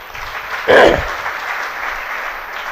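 Clapping from an audience at a Jain religious discourse, a brief burst of applause near the start that settles into a softer, lingering patter of scattered claps.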